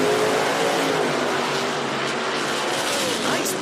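A nitrous drag racing car with a huge big-inch engine roars down the strip at an IHRA qualifying event, a continuous loud blaring engine filling the whole stretch.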